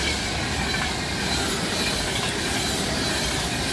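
Train passing straight through on the main line at Stafford station, a steady loud roar of wheels and rolling stock close by with faint clatter throughout.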